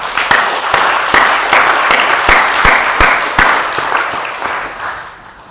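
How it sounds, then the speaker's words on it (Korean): A church congregation gives a big round of applause, dense and enthusiastic hand clapping filling a hall for several seconds before tapering off at the end. "힘내시라고 격려의 박수 한번 크게 보내드리겠습니다."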